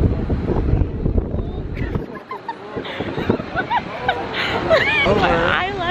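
Gusty outdoor wind buffets the microphone on a school campus in Los Angeles, a heavy low rumble for the first two seconds that then eases, while people talk throughout.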